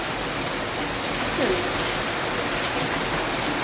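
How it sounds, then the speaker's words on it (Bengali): Heavy rain pours down steadily, a loud, dense and unbroken wash of noise from start to finish. "কি অঝরে বৃষ্টি হইতেছে।"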